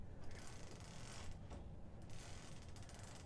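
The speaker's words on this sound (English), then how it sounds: "I'm rolling it onto the bottom roller because I want to start working from the top" Quilt rolled onto the bottom roller of a quilting frame, producing a faint, continuous mechanical ratcheting and creaking with soft clicks, quiet and close without speech.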